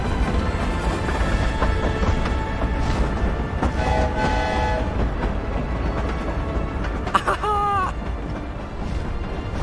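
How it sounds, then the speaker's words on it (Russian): The Hogwarts Express steam train in the video game Hogwarts Legacy rumbles steadily, with tonal whistle and horn calls and a warbling effect near the end, under soft game music and occasional voices. "There's the Hogwarts Express."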